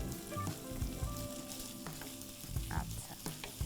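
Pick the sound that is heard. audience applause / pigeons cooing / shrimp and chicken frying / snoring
shrimp and chicken frying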